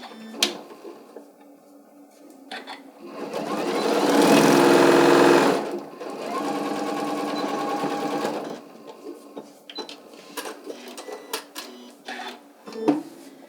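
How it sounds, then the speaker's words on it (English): A sewing machine stitches the cuff seam of a fabric Santa hat, one steady loud burst of whirring that stops, followed by a quieter run and scattered clicks and handling noises. "I'm going to go ahead and sew across at a 1/2 inch and sew that up"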